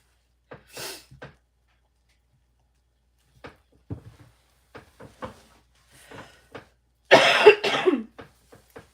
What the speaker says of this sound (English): Don't mind the coughing and the sniffling.